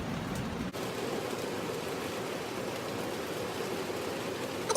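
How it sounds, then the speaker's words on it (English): Steady rain falling outdoors, heard from inside as a constant broadband hiss that fills the background evenly throughout, with no talk over it. "it is raining right now, and that's what's going on with the noise in the background"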